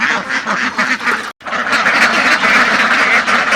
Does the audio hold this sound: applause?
no